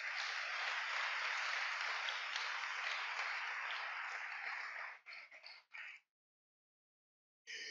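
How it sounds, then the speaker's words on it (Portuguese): A church congregation breaks into dense, loud applause for about five seconds, then it thins into a few scattered claps and stops, with silence before a brief burst returns at the end. "Uma salva de palmas para o Senhor Jesus."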